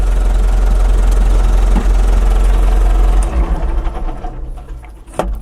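An International Harvester 844 XL tractor engine runs loud and steady with a heavy low rumble, then the note shifts and settles into a rougher, uneven idle near the end.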